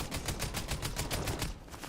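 Rapid automatic gunfire in the video game Fortnite during a youth tournament match, a steady run of close, loud shots in quick rhythm that stops just before the end.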